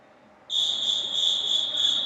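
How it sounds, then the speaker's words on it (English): Starter's whistle at a youth swim meet: one sustained, shrill, fairly loud whistle blast that starts suddenly and holds steady over soft pool-hall background noise. "Starter's whistle has blown."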